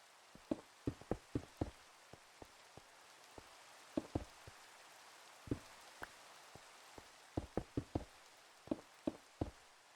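Rain in the video game Minecraft falls as scattered, distinct drops tapping a surface, irregular and fairly crisp against a soft steady hiss, with no voices.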